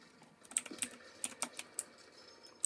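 Computer keyboard keys clack in quick, uneven taps during a Fortnite session played on keyboard and mouse, fairly faint and close, about eight or nine presses with no talk.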